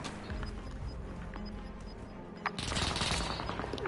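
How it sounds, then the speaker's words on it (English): Rapid gunfire in the Warzone video game, sustained bursts of shots in the background that swell into a louder, denser volley near the end. "I don't even know where I'm getting shot from."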